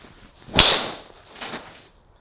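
A single sharp, loud, firm crack of a Wilson Dynapwr golf driver hitting the ball, followed by a fainter whoosh and quiet outdoor ambience.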